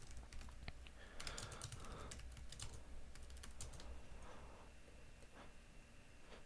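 Quiet, rapid keystrokes on a computer keyboard patter in irregular clusters over a faint background hum, with no talking.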